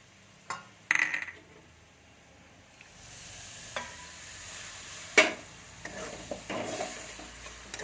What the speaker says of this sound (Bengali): জলটা দিয়ে আমি মশলাটা ভালো করে ভেজে নিচ্ছি